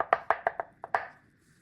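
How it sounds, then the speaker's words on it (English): A knife chops boiled egg whites on a board in six sharp, quick taps, evenly spaced at first with a short pause before the last two, close and fairly quiet. "Chop the egg whites."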